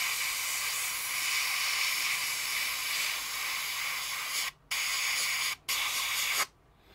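Airbrush spraying paint onto a model farmhouse kit, a steady close hiss of air and paint that holds for several seconds, then breaks off in two short gaps before stopping.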